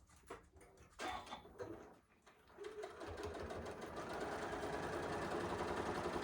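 Sewing machine stitching flying geese quilt blocks, a few short bursts of needle clatter before settling into a steady, continuous close-up hum of fast stitching.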